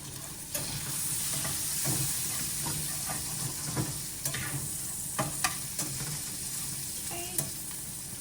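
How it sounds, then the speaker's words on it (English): Bacon crisping in a frying pan, sizzling steadily and close, with scattered sharp pops and crackles of spitting fat over a continuous hiss. "I am going to just brown this up or crisp up this bacon before I add anything else to the pan."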